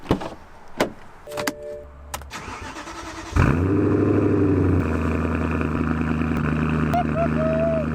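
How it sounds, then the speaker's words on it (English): A race car that has sat for four months with a misfire has new spark plugs fitted. A few clicks and a door clunk come first, then the engine cranks, fires up loudly and settles into a rough, uneven idle. "Let's hope she starts up."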